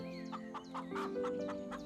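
Hens cluck in a series of short, repeated calls against a soft tonal background in an animated children's story, close and clear with no speech.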